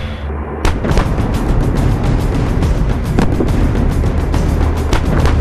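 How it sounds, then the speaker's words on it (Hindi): Indian Army artillery fires as a dense, loud rumbling barrage with repeated sharp booms over continuous roaring noise, without speech. "सही ढंग से तैनात की गई आर्टिलरी फायर किसी भी जंग का रुख बदल सकती है"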